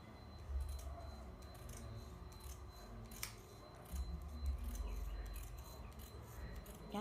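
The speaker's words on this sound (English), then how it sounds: "So I'm going to go ahead and cut out my" Scissors snip through satin fabric to cut a semicircle for a bonnet, quiet, close and crisp, with repeated cutting strokes and no talking.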